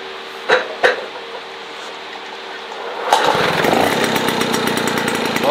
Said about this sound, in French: J'ai remis donc l'ancien carburateur, il n'y a plus qu'à voir si ça démarre.